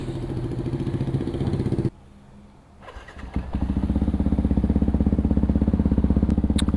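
A freshly washed, still-wet Yamaha WR155 motorcycle idles with a steady, close thrum, then cuts out for about a second. It restarts and settles back into a loud, even idle.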